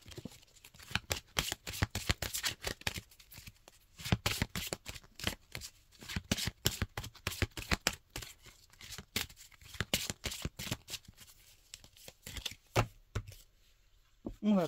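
A deck of tarot cards being shuffled by hand, with rapid, dense papery riffles and flicks repeating in bursts with brief pauses, close and fairly loud.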